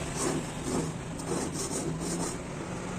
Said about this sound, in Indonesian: kikir dan amplas bagian dalam arrow track